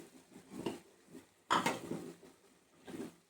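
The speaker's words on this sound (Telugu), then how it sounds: "నేను శుభ్రంగా కడిగి పెట్టుకొని 1 కప్ క్యాలీఫ్లవర్ ముక్కలు అయితే యాడ్ చేస్తున్నాను" Washed cauliflower pieces tipped into a cooking pan for a curry, giving a few clattering thumps and scrapes against the metal, the loudest burst in the middle. No one speaks.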